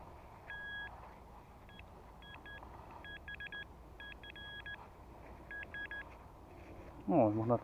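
Metal detector signal beeps while digging for relics in Pomerania, Poland: short, repeated high-pitched electronic tones in irregular bursts, some rapid, fairly faint over a soft outdoor background, ending with a louder handling noise.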